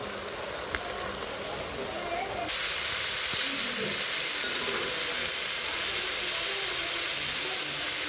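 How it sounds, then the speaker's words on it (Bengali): Bitter gourd slices fry in hot oil, a loud, dense sizzling hiss that swells once the slices go in and then holds steady, with a couple of faint clicks. "এখন আমি করলা ভাজিগুলো দিয়ে দেবো।"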